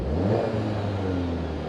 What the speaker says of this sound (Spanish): Lo ponemos en Dynamic, le pisamos un poquito el acelerador para ver cómo va este coche.